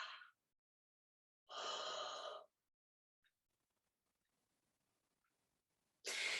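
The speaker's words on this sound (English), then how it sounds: "we're going to simulate a yawn" A person performs a simulated yawn during a breathing exercise: a short breath at the start, then one drawn-out, breathy yawn lasting about a second, followed by near silence and another breath at the end.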